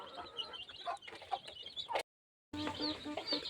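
Chickens cluck repeatedly inside a coop where birds are raised on floor litter, a busy overlapping flock chatter that drops out briefly near the middle before resuming.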